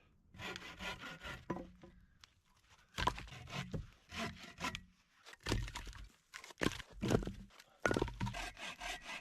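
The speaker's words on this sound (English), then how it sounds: "Now I need to chop up some firewood." Firewood is being cut at a snowy campsite with no tent. Several separate bursts of rough, rasping wooden strokes are close and clear, with short pauses between them.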